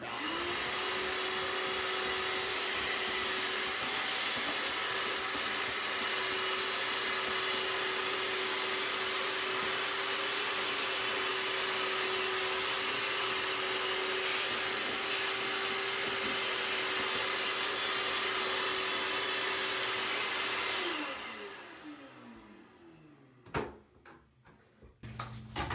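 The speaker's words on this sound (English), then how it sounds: "I'm just gonna kinda push it around with the end and vacuum." A vacuum cleaner roars steadily at close range while cleaning a bathroom exhaust fan, for a long stretch, then winds down and stops, followed by a few scattered knocks and clunks.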